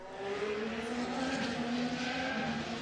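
A Ferrari Formula 1 car from 2023 runs along a circuit's main straight, its high engine note holding steady and loud for the whole stretch with a slight rise in pitch, no voices over it.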